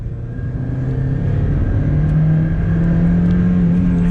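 A 1999 Mazda Miata NB's engine runs under load, its loud, continuous mid-pitched drone climbing steadily in pitch as it revs, close and clear with no voices.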